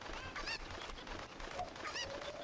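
A chicken in Zelda: Ocarina of Time gives off repeated squawking, honk-like clucks, two bursts close together over a steady game background hum.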